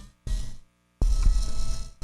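A dying, fairly old electric wine opener whirs in two short bursts, a brief buzzing run followed by a pause and a longer, louder strained motor drone, with no talk.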